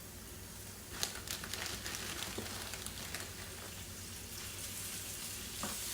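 Chopped onion sizzling in a small splash of oil in a hot pan, a steady soft crackle with scattered sharper pops, close and alone with no talk.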